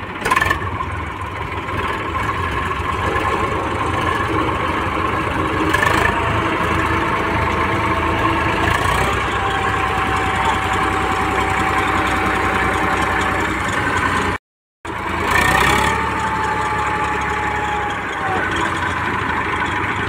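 A tractor engine idles steadily with a low, rough mechanical rumble, loud and close, running continuously with a brief dropout partway through.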